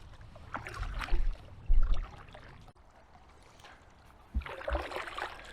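A kayak is paddled on Loch Lubnaig in Scotland, with soft splashes and water swishing as the blade strokes in uneven bursts. The sound is close and fairly quiet, with no talk.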